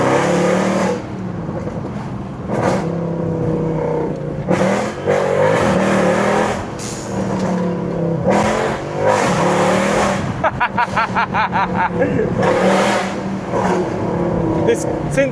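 Up close, a Mercedes C63 AMG on Alibaba headers revs its exhaust again and again, with loud swells between lulls and a rapid crackling burble of pops around the middle.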